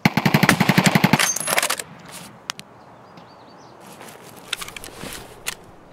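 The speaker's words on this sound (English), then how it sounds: "He was shooting at somebody below." Rapid automatic gunfire from Escape from Tarkov, played in the Reserve map, rattles loud and close for over a second, then a few single distant shots crack sparsely against a quiet ambient backdrop.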